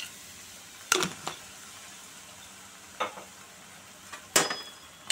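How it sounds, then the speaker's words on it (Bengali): Lentil dumplings (bori) fry in hot oil in a wok, with a soft sizzling hiss underneath a few sharp spatter pops and clinks scattered across the clip. "পালং শাকের ঘন্ট বানাতে প্রথমে বড়িগুলোকে তেলে ভেজে নেব"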